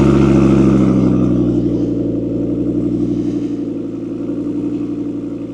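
A car engine at a steady idle just after starting, on a car with a forged engine that burns some oil and shows a lit engine warning light; close and loud, a constant low rumble easing slightly, with no talking.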